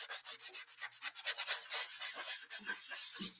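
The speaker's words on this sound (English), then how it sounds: "so I'm gonna keep sanding around here." Rhythmic back-and-forth rasping of a sanding block rubbing over painted wood, close up, in quick repeated strokes with a few thumps near the end.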